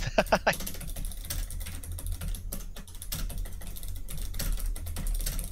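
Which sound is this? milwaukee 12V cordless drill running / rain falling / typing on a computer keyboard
typing on a computer keyboard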